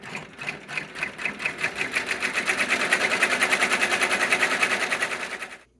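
An embroidery machine stitches pocket fabric for a snap bag in a fast, even run of needle clicks and motor whir, close and steady, fading out abruptly at the end.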